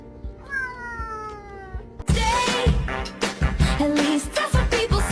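A cat meows in a rising, drawn-out call over the first two seconds, then a loud, busy stretch follows with more meow-like cries mixed into noisy handling sounds, close to the microphone.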